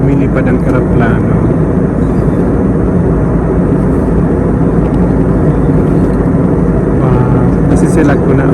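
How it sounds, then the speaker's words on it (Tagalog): A constant loud roar fills the cabin of an airliner in flight on approach to Frankfurt, a steady engine and air rush without pauses, with a person talking over it. "Paano kaya lumilipad ang eroplano?"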